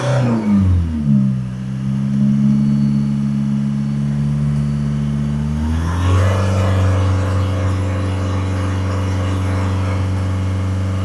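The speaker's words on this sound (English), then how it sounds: "So give it a couple of revs up and down." A Mitsubishi ASX 2.2 diesel engine idles loudly nearby, then revs up partway through and holds at a higher, steady drone.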